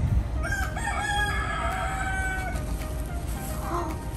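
Roosters crow and hens cluck in the open air of Key West, Florida, with several drawn-out crows carrying clearly above a steady background hum of wind and ambient noise throughout.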